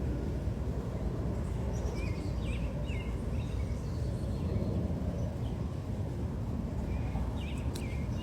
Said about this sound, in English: The music of the birds.